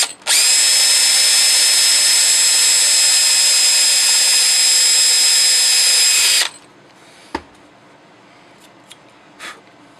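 A power drill bores a hole for an eighth-inch pop rivet while a patio light is repaired. The loud, steady whine holds for about six seconds, then cuts off, followed by a few faint clicks and taps.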